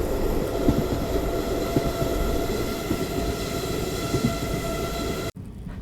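The Mysuru–Talaguppa express train rolls along with a loud, steady rumble and rattle heard from on board, wheels clicking faintly over the track, before the sound cuts off abruptly near the end.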